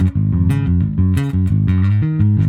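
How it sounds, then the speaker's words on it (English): A guitar played through a Positive Grid Spark practice amplifier, loud and close, with sustained, ringing chords that change every half second or so and no talking. "So what you're hearing right now is this guy right here, the Positive Grid Spark."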